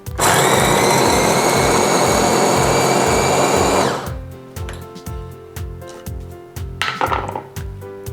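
Electric grinder blending fried fish meat, a loud continuous motor whir for about four seconds that then cuts off, followed by clattering knocks of the container and a brief second burst of grinding.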